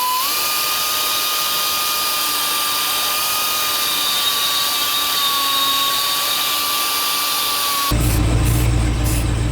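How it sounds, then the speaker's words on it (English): Burr bit on a power tool grinding a steel cross member on a 2020+ GM 2500 pickup during a 6.5-inch lift install, a steady high whine holding for about eight seconds, then shifting to a rougher, louder buzz at the end. "we're using a burr bit for this"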